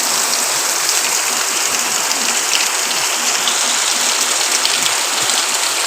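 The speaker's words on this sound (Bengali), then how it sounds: "কি বৃষ্টি হচ্ছে।" Heavy rain falls outdoors in an unbroken, loud hiss of countless drops, steady and close from start to finish with no other sounds standing out.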